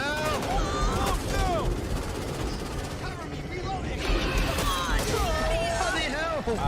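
Gunfire in a zombie video game played on insane difficulty: sustained, rapid shooting rattles continuously at moderate loudness beneath excited, overlapping player voices.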